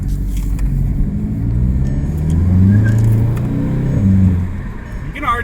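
Volkswagen MK7 GTI fitted with an S&B cold air intake, engine note rising and falling as it accelerates through gears while driving, recorded close inside with road rumble and a voice talking over it.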